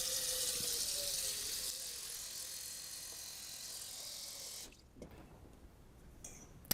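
Cold water runs from a kitchen tap in a steady hiss that cuts off partway through, leaving quiet room sound with a couple of faint knocks.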